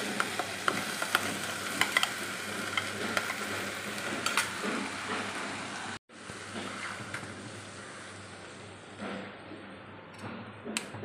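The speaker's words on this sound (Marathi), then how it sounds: "आता भाजी छान परतलेली आहे." Fenugreek leaves sautéing in a pan make a steady sizzle and frying crackle, with a utensil stirring and scraping through it near and fairly loud, broken by a brief gap partway.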